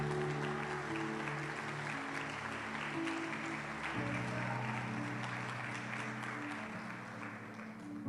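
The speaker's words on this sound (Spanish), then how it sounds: "Dele un aplauso al Señor." Applause from a Spanish-speaking church congregation, a broad, even wash of clapping at moderate distance, sustained throughout over a held background tone of music.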